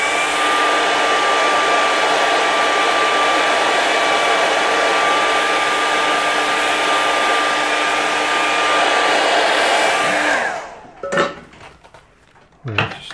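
A hair dryer dries a winter snow landscape painting with a loud, steady whirring drone for about ten seconds. It then cuts off, leaving light clatter and handling noises.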